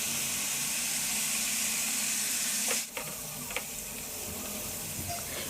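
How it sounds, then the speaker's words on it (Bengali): Dried fish (shutki) fries with spices in a pan, giving a steady close sizzle and hiss with a few brief scraping stirs partway through. "এরই মধ্যে মশলা আর শুটকিটা সুন্দর মতো কষানো হয়ে গেছে"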